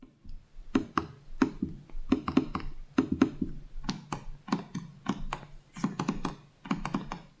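Typing on the metal ASUS ProArt PX13 laptop keyboard, a close run of light, crisp key clicks in irregular bursts and pauses, quiet and alone without speech.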